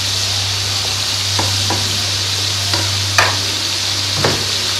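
Spiced masala with a little tamarind frying in a pan, a continuous loud sizzle broken by a few sharp scraping stirs, with a low steady hum beneath.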